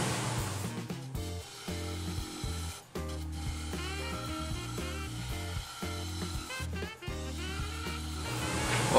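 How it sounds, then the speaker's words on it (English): A shear scraper works a Movingui wood bowl spinning on a lathe, giving a steady, close, rhythmic rubbing and rasping that repeats in strokes, with brief pauses between passes. "I'm going to shear scrape this part now."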